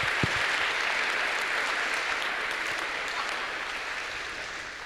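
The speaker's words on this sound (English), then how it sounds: "So give yourself a round of applause." Audience applause at a university welcome event for new students, a steady dense wash of clapping that holds at an even level and only eases slightly toward the end.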